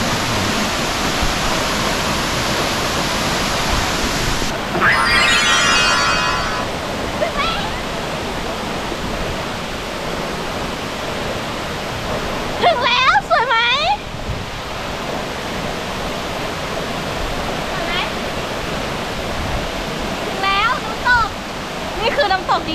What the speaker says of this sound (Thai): ตอนนี้ถึงน้ำตกแล้วค่ะ